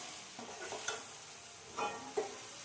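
A spoon stirring turmeric and other spice powders into sizzling masala in a pan while making chicken curry, with quiet, soft scraping strokes over a low, constant sizzle and no voices.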